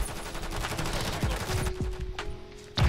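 Gunfire in Call of Duty: Modern Warfare 3, scattered shots and short bursts popping over a steady background hum, fairly loud with a sharp final crack at the end.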